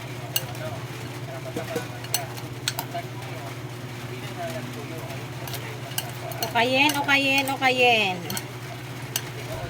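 Pork and tofu are stirred in a pan with a quiet background hiss and occasional utensil clicks, while a person speaks partway through.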